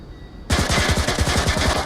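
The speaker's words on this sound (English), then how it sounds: "More gunshots." A rapid burst of automatic gunfire in the VR shooter game Onward during a competitive match, loud and close, with evenly spaced shots rattling in quick succession after a brief quiet moment.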